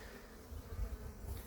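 Honeybees buzz faintly and briefly around an opened hive whose body has just been swapped, a low droning hum with no voices.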